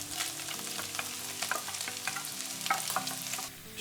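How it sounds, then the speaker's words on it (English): Onions and garlic are stir-fried with bacon in a pan for quiche filling, giving a moderate continuous sizzle punctuated by repeated scraping stirs with a utensil, and no speech. "Stir fry those until the onions are translucent and starting to colour."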